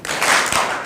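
A gala dinner audience claps once together, producing a single dense burst of many hands that rings out briefly and fades, close and loud.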